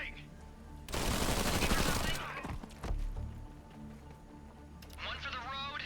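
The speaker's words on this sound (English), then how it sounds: "Shooting!" Gunfire in the video game Zephon: a loud sustained burst of rapid shots lasting about a second, followed by a couple of heavy thuds and softer game effects, with a voice talking lightly underneath.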